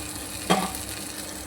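Ghee sizzles in a pan for a sweet raw-mango preserve, giving a soft, steady hiss broken by one brief louder spatter near the start and a small clink at the end.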